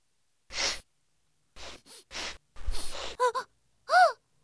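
A voice performs a cold-ridden sneeze near a Buddha statue: several sharp, breathy gasps, then short, voiced, nasal achoo bursts, all close and separated by silence.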